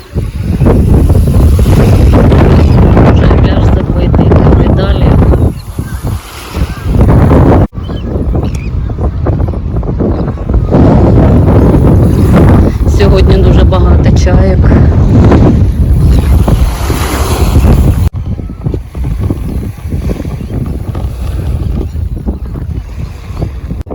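Strong seaside wind gusts across the microphone on a beach by the sea with sand blowing, a loud continuous rumbling buffet, with faint waves and distant beach sounds beneath.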